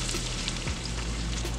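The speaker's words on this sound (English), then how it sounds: "I'm gonna be sauteing up some celery and onion" Celery and onion sauté in a pan for a Thanksgiving stuffing, giving a steady, soft sizzle that stays even and close throughout.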